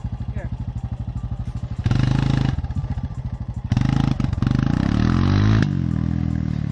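A quad bike engine idles with a rapid loping putter, then revs hard in loud bursts and holds a high, strained roar up close.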